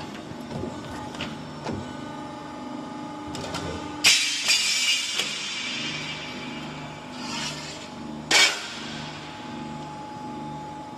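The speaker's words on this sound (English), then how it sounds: "Let's checking the cutting quality of the machine now." A CNC shearing machine cuts steel pipes with an alloy steel blade, giving a steady mechanical hum with sharp loud cutting bursts at about four and eight seconds and lighter clanks between.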